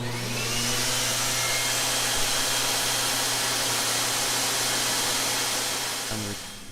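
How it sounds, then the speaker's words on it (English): An air blower blows out the return lines of a swimming pool during closing, a loud, steady roaring hum held for about six seconds before it drops away at the end, close and alone. "blow the lines out for a bit."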